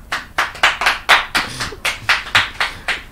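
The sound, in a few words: audience clapping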